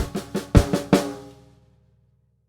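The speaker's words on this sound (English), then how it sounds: "So 8th note triplets on the snare drum for 3 and 4." Drum kit playing a snare fill of eighth-note triplets with bass drum on the downbeats, several sharp close hits over about a second, then ringing decay into silence.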